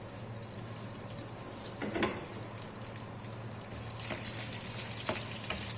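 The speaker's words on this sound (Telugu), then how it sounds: "కొద్దిగా వేగిన తర్వాత మినప్పప్పు, జీలకర్ర, ఆవాలు, ఎండుమిరపకాయలు కూడా ఇప్పుడే వేసుకుందాం" Urad dal, cumin, mustard seeds and dried red chilies frying in hot oil for a buttermilk rasam tempering, a continuous close sizzle with a few scrapes and a brief louder burst of hissing.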